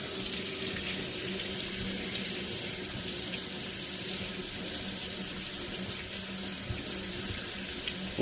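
Water runs steadily from a tap into a sink after an electric mini-tank water heater has been installed. The hiss is constant and close, with no voices.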